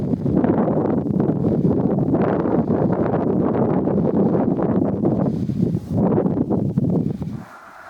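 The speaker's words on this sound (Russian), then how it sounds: "Давайте вместе насладимся этим ветром." Cold wind at about minus 17 degrees in Utah gusts hard against the microphone in a heavy, roaring rumble that holds steady, then dies away abruptly at the end.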